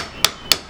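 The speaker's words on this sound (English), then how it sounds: "There's a hammer right there." A hammer strikes a candy cane twice in quick succession, each blow a sharp, close, bright crack separated by a short pause in an otherwise quiet room.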